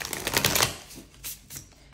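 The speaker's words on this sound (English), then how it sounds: "so I'm going to shuffle once here" Sacred Bee tarot cards being shuffled: a close, crisp riffling flutter that fades into a few lighter card slaps, with no talking.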